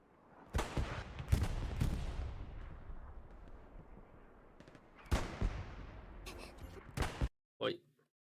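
In Hell Let Loose on the Hurtgen map, rocket launcher fire and explosions hit as several sharp, loud blasts, two close together early and more near the end, each trailing off into rumbling battlefield noise.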